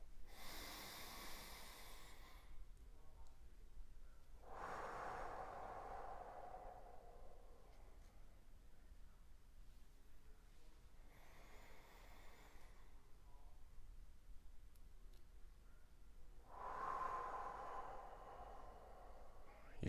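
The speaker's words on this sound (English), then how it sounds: "we're going to take a couple of big breaths together" Several slow, deep breaths taken together during a morning school assembly, each a broad airy inhale or exhale rising and fading over a couple of seconds, separated by quiet pauses, with no talking.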